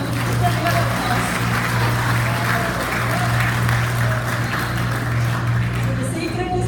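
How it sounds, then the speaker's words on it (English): Audience applause fills a hall after a commencement-style address at Acharya Institute, steady dense clapping lasting several seconds with a faint crowd murmur beneath. "Now the applause."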